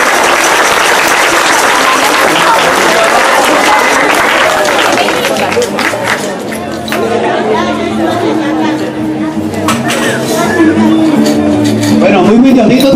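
Crowd applause and cheering at a neighborhood Christmas novena gathering, dense clapping at first that thins out, with chatter and voices talking over the tail end.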